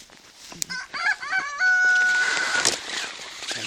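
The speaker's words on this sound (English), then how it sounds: "Rooster won't shut up." A rooster crows once nearby in a snowy Oregon yard during a blizzard, a clear drawn-out cock-a-doodle-doo with a few short clucks before it, over light background noise.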